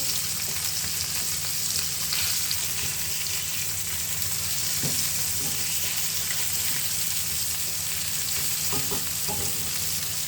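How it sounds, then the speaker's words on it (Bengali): Fish frying in a pan, a continuous hissing sizzle heard up close, with a few soft clinks and scrapes of stirring and no talking. "একটু মাছ ভাজি করছি"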